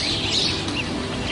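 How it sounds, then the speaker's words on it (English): A flock of birds chirps and tweets continuously, with several bright calls close by over a dense, busy background chatter. "Are these your birds? No. They won't shut up."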